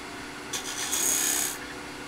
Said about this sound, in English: we're going to use a parting tool to bring that down